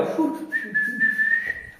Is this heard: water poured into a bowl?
no